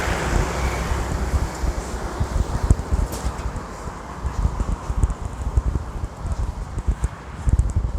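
Strong wind during rain on a street in Makati, Manila, a loud, continuous roar with heavy gusty buffeting against the microphone and a hiss of rain beneath it.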